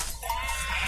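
Sheep bleat in the video game Valiant Hearts, a short wavering animal cry set against a dense, noisy game soundscape that stays loud throughout.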